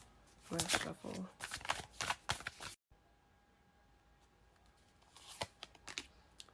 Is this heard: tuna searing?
no